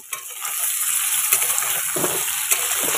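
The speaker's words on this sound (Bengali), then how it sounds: "এখন আমি সবজি ভেজে নিচ্ছি" Cut eggplant, potato, pumpkin and radish frying in hot oil, giving a steady, dense sizzle with occasional soft stirring clicks.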